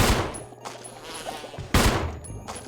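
Gunshots fired at a giant bee in Resident Evil 1: two sharp, loud reports with clear echoing tails, the first at the start and the second about halfway through, with a faint buzz in between.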